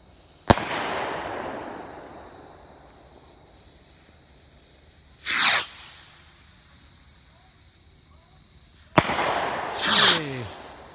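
Magnus Fireworks Smile at Me rockets launch with sharp pops, then whistle and burst loudly in three separate volleys spread over several seconds, with distant crackle fading after each one.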